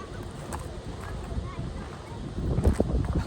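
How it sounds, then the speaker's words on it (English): Strong gusty wind blows outdoors in New Mexico, buffeting the microphone as a steady roar that swells louder toward the end, with people talking over it. "That wind's crazy, ain't it"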